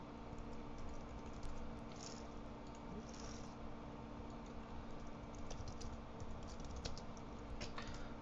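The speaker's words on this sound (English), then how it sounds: "So I'll type this as a paragraph" Soft clicks of a computer keyboard come in light, quick bursts while HTML code is typed, faint under a constant low hum.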